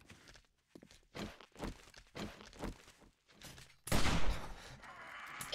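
Rifle fire in the zombie survival game 7 Days To Die, with several sharp shots and scuffling movement, then a loud burst near the end that rings out and fades into noisy rumble.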